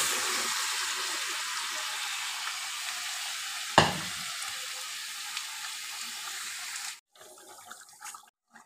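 Mutton fries in a kadai with a loud, steady sizzle and one sharp metallic clank from stirring. The sizzle cuts off abruptly and gives way to quieter scraping.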